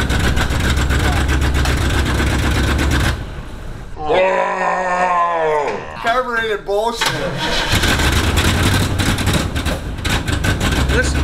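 An old milk truck engine cranks and sputters loudly, then catches and runs roughly, its steady mid-pitched drone continuing as people talk nearby over it.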